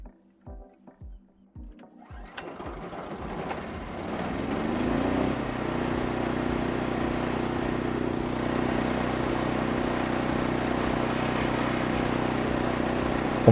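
A 15 hp four-stroke petrol engine on a Remet RTS-630 wood chipper cranks with a few pulls, catches, and revs up into a loud, steady running drone that holds to the end.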